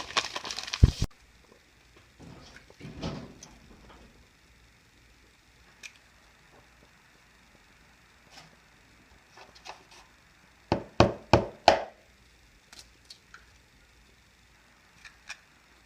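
Eggs being cracked for chocolate chip cookie dough: a cluster of sharp cracking clicks near the start, then a quick burst of crisp cracks and shell taps around the eleven-second mark, with quiet kitchen handling sounds between.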